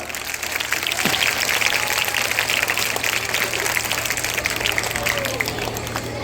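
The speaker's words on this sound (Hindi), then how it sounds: "एक बार अपने लिए जोरदार ताली बजाओ" Small children in a coaching centre classroom clapping for themselves, a dense, steady patter of many small hands over low hum, continuous and moderately loud throughout.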